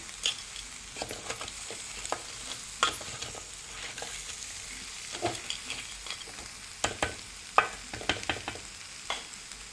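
Crab tossed with masala in a hot pan, a steady close sizzle of frying under repeated scraping and clinking stirring strokes, no voices.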